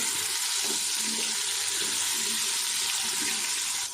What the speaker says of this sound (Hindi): थोड़ा सा पानी मैंने डाल दिया